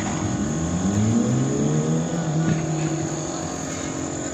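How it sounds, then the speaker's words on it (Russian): Propeller airplanes fly overhead one after another above a Black Sea seaside promenade in Adler, a steady droning hum with slowly shifting engine tones and faint background ambience. "Самолеты летят один за одним."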